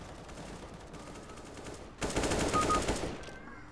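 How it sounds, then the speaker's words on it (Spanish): Rapid bursts of gunfire from Counter-Strike: Global Offensive, a steady rattle that swells sharply louder midway through, with no talk over it. "Disparando muy bueno"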